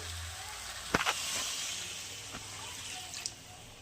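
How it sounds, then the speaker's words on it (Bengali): Water is poured into a cooking pan for a fish curry with potato and radish, a soft, quiet splashing hiss with a few small splash bursts. "এবার জল দিয়ে দেবো"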